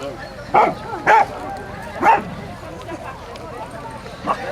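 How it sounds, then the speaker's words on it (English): A dog barks at an outdoor bushcraft show, four separate sharp barks spaced over a steady crowd murmur, at moderate distance. "the dog, keep them on a lead there"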